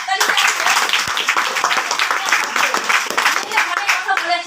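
Dense, steady clapping from an audience fills the whole stretch, with a few voices mixed in beneath it.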